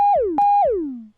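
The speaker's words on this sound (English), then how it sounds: "Has that nice falling effect at the end of it." Synth lead played twice, each note holding steady and then sliding downward in pitch as its release fades, a bright, clear, falling tone alone with no voices.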